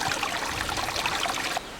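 Spring water flows steadily in a creek at Caroline Springs in the West Texas desert, a continuous close trickling and gurgling rush that holds even throughout, then drops slightly at the end.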